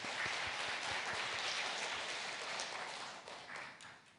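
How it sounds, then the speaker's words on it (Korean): A church congregation applauding together during a service, a dense wash of many hands clapping that holds steady and then gradually fades out. "하나님께 영광의 박수 올려드립니다"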